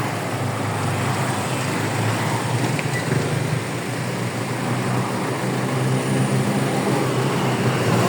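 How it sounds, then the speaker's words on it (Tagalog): Road traffic rumbling in a street in San Juan, a continuous low roar of passing vehicles with a steady engine drone, close and fairly loud, with no talk over it. "Traffic dito."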